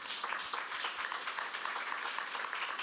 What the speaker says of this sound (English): a big round of applause for the speakers and the panelists